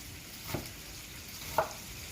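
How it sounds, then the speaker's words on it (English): Bacon frying in a pan gives a faint, steady sizzle throughout, with two brief soft knocks, one early and one later. "You don't want to cook your bacon too hard, too fast."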